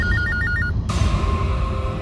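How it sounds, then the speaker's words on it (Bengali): A telephone rings with a repeating electronic tone in short, evenly spaced bursts, then stops abruptly as other indoor sound takes over. "চলো তোলো, ফোনটা তোলো এক্ষুনি।"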